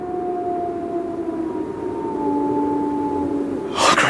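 A long, wavering howl for the Hound of the Baskervilles in a moorland drama scene, a drawn-out mournful tone sliding slowly downward, with a burst of noise at the end.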